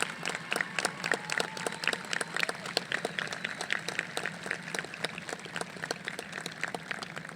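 Audience at a high school graduation ceremony claps for the faculty, a steady wash of dense applause from many hands sustained throughout at moderate distance.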